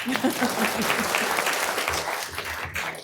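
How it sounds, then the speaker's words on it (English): Audience applause at a city council meeting during an award recognition, a moderate, steady patter of clapping with low voices murmuring underneath. "go ahead and clap"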